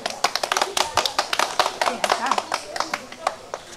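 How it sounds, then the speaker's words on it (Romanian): Small group clapping at a child's birthday surprise, a close, uneven run of hand claps lasting several seconds, with some light background voices. "Aplaudăm!"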